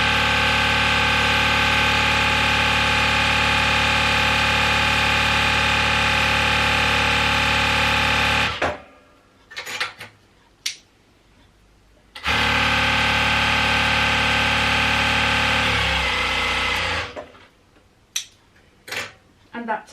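A Jack H2 walking foot industrial sewing machine winds a bobbin, its motor whirring loud and steady for about eight seconds, stopping, then running again before falling quiet with a few light clicks.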